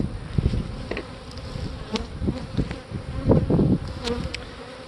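Honey bees buzz around an opened strong hive of three medium boxes, making a dense continuous drone close by, with occasional soft knocks and scrapes of hive equipment.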